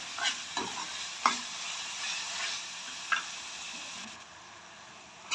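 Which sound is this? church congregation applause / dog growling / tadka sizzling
tadka sizzling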